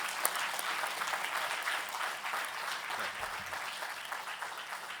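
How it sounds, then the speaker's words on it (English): Audience applause fills an education technology forum plenary session, a dense, steady wash of many hands clapping at even loudness from start to finish with no voices over it. "Give a hand of applause to these people."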